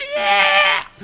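A human voice imitates a screaming goat, a single loud, wavering nasal bleat lasting about a second, close and alone.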